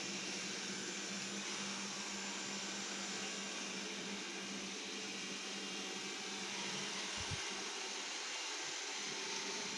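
A Xiaomi Mijia 1C robot vacuum cleaner runs with a steady, close whirring motor hum and broadband fan hiss, unbroken throughout, with a faint low bump near the end.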